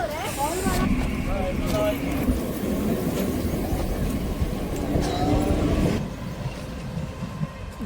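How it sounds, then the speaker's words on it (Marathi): A train pulls away from a station heading toward Khopoli, its loud rail rumble and hiss continuous throughout, with a person talking over it. "मी आत्ताच या ट्रेनने खाली उतरलो आणि ही ट्रेन आपल्या नाकासमोर सरळ निघून गेली"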